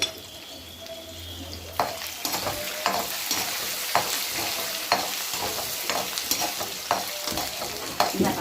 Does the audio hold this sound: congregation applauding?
no